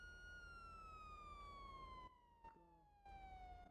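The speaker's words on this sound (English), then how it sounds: "you could turn the siren off at least" A video game police siren wails steadily in a long, slowly falling tone, loud and close, with a couple of brief dropouts partway through.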